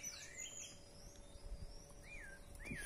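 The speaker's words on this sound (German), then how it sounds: "Die Vögel, die hört man natürlich im Hintergrund." Birds chirp and tweet faintly in the background around an office with coconut palms in Paraguay: a few scattered, distant calls over a quiet outdoor hum, with no talking.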